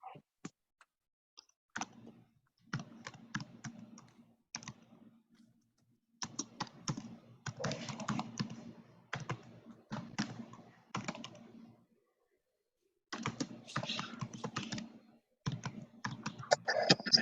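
Bursts of typing on a computer keyboard come in several separate runs with pauses between them, moderately close and fairly quiet, and no one speaks.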